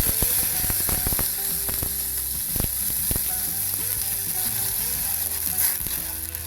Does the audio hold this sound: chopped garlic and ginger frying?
yes